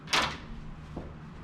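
A hotel room closet door is pulled open, giving a brief close swish and rattle at the start, then a quiet room hum with a couple of faint knocks.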